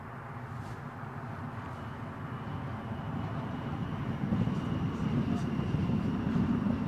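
Distant aircraft approaching Newcastle Airport, caught by a shotgun microphone as a low rumbling drone that slowly grows louder, with some talking in the background.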